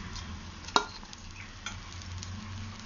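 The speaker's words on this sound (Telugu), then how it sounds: "ఇప్పుడు మనము ముందుగా ఫ్రై చేసి పెట్టుకున్న ఈ దొండకాయ ముక్కలు దీంట్లో వేసుకోవాలి." Tindora pieces and onions frying in a pan, a steady soft sizzle with a sharp clink of a spoon against the pan and light scraping stirs, close and quiet.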